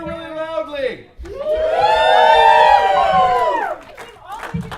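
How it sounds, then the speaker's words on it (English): A crowd of people cheers loudly at a live variety show, a swelling burst of whoops and yells that builds, holds for a couple of seconds and fades, with talking just before and after. "What if we cheered really loudly?"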